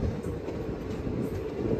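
An electric passenger train runs through Kashmir on the line toward Anantnag, with a steady, close rumble and rolling wheel noise and no break for the whole short stretch.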